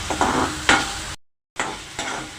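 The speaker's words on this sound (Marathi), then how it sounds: "छानपैकी भाजा लालसर करा कांदा" Onion browning in a pan on a Maharashtrian kulith pithla recipe: continuous close sizzling with spatula stirring scrapes, broken by a brief silent gap, no talk.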